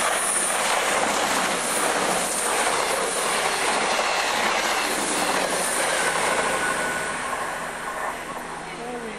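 GWR 6024 King Edward I, a steam locomotive, rolls past near Upton Pyne with a loud continuous rumble of rail noise, clattering wheels and a squeal, steady throughout and easing slightly at the end.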